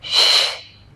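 A single sharp inhaled breath through the nose during a Pilates rotation, close and fairly loud, swelling quickly and then fading into quiet within a second.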